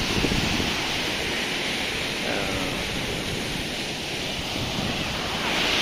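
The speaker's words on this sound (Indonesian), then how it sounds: "ombaknya ya enggak begitu besar" Small, gentle ocean waves wash steadily at Panging beach in Blitar, a continuous broadband surf hiss with a little wind noise, fairly close and even in level throughout.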